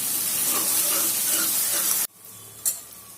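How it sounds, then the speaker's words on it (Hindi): Loud, steady sizzle of leftover vegetables and tomatoes frying in a pan, a dense hiss with faint stirring, then the sound cuts to a quieter background with a brief clatter. "सभी चीज़ों को हम अच्छे से भून लेंगे और टमाटर को भी सॉफ्ट होने देंगे।"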